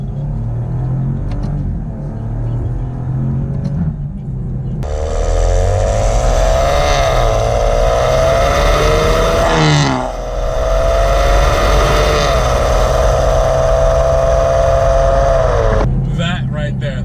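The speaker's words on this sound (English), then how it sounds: "You don't need anything but the sweet symphony of this engine." A Maserati Ghibli SQ4 engine and exhaust drone loudly while driving, the pitch climbing through gear changes with a brief dip between, with the engine note dominating throughout.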